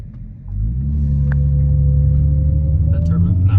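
A B8.5 Audi S4 engine rumbles and revs up, a deep steady drone that swells after half a second and holds near and loud, with brief voices over it.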